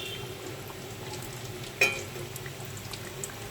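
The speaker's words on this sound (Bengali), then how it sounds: "আস্তে আস্তে ভাজা হোক" Batter snacks made from potato and flour fry gently in hot oil with a low, even bubbling sizzle. One brief sharper crackle pops out midway, and no talking is heard.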